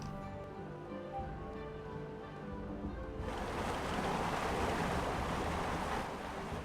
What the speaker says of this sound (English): that water sloshing audio is so loud